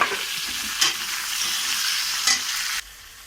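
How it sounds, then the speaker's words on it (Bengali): Chopped onion and tomato go into a hot pan of oil already holding garlic and bay leaf for a jackfruit curry. The sizzle swells in two loud bursts as they land, hisses steadily between them, then drops away sharply near the end. "এবার এখানে পেঁয়াজ আর টমেটোটা ছিল দিয়ে দিচ্ছি।"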